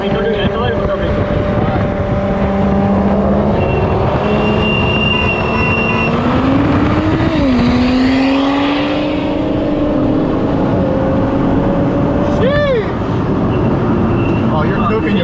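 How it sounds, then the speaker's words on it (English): A tuned street-race car brakes hard with loud, overheated brakes, giving a sustained tonal squeal that rises and bends over a steady roar, with a sharp whine near the end. "Oh, you're cooking your brakes. Cooking your brakes. Yeah, they're loud."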